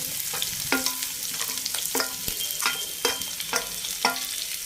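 Onions and green chilies frying in hot oil with ginger-garlic paste, a steady sizzle broken by five or six sharp scraping stirs of a spoon against the pan at a regular pace; no voices.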